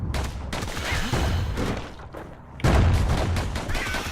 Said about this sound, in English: Wow, they got a big explosion on them.